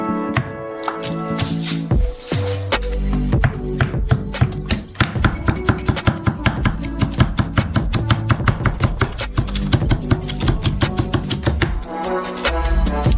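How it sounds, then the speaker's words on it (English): Knife cutting through bacon on a board, a quick series of crisp chops and taps in an uneven rhythm, close and fairly loud, with no talking. "Well, the last thing you need to cut is bacon."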